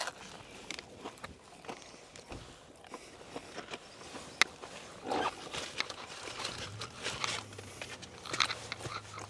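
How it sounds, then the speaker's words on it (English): Close, wet chewing and biting on a Taco Bell toasted cheddar chalupa, with irregular crunchy bites and mouth noises over roughly nine seconds and no talking. "Darn chewing."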